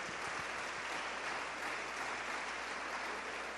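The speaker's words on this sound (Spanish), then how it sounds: "démosle palmas al Señor" A church congregation claps together at a Spanish-language service, a dense, steady wash of many hands that carries on evenly and fairly distant, with no speech over it.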